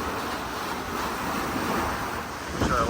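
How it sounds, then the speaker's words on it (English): Water rushing and churning in the wake behind a sailboat under way, a steady broad hiss of surf mixed with wind noise on the microphone, loud and continuous with no talking. "Got some water boiling behind the boat,"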